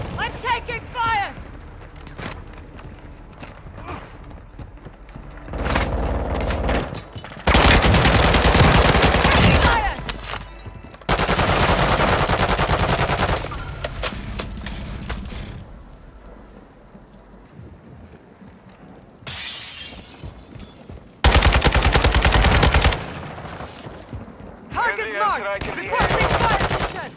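Video game gunfire in Warzone Resurgence, several loud bursts of rapid shots coming in clusters between quieter stretches, with spoken voices heard in places.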